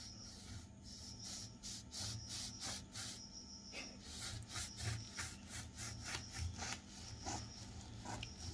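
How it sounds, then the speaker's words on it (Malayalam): A heated knife saws through a loaf of homemade bread from an atta and bread maker, giving a steady back-and-forth rasping of repeated strokes, close and fairly quiet, with no talk. "20 മിനിറ്റ് കഴിഞ്ഞിട്ട് നമ്മൾ ബ്രെഡ് മുറിച്ച് നോക്കാൻ പോവാണ്."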